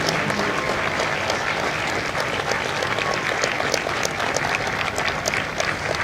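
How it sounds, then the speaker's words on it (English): An audience at a Marine recruit graduation at MCRD San Diego claps loudly and continuously, a dense, steady wash of many hands with no voices standing out. "a round of applause for their dedicated service to Corps and country"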